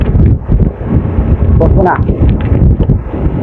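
Strong wind buffets the microphone at an outdoor bicycle race, a loud continuous low rumble with talk partly heard underneath.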